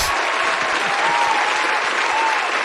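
An audience claps hands at a comics, culture and cosplay event, steady dense applause throughout, loud and close.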